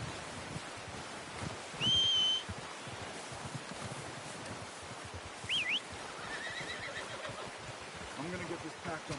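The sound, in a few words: horse neighing in a video game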